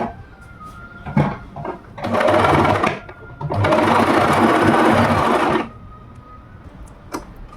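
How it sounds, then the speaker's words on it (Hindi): Sewing machine stitching fabric strips together while making a top, running in two steady motorized bursts of a few seconds each, close and loud, with brief clicks and handling noises between runs. "हम इसको ऐसे करके यहाँ पे स्टिच लगाएंगे"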